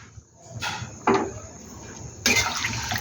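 Water from a rinsed bowl splashes into oil-free chicken kosha cooking in a pot, two short close sloshing pours separated by a quieter pause.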